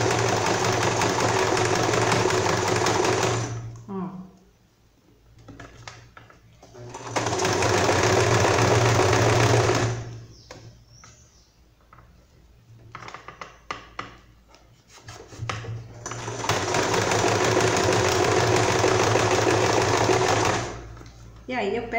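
A domestic sewing machine runs a zigzag stitch on fabric in three long, steady bursts, with quieter pauses between them where someone talks and cloth rustles.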